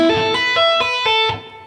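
A distorted electric guitar plays a 90s-style tapping intro slowly, with clear sustained notes changing in a steady rhythm of roughly five picked or tapped attacks before ringing out and fading.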